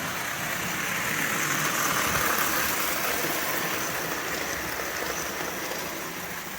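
A 1930 Lionel 260E toy steam locomotive, black with cream stripes, running on track with its tender, giving a steady, even whirring hum of motor and wheels that swells slightly midway and holds constant throughout.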